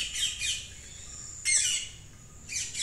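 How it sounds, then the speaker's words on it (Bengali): Birds at a national zoo give loud, harsh squawks in short repeated bursts, fairly close, with quiet gaps between calls and no talking. "চিড়িয়াখানায় 1500টিরও বেশি পাখি"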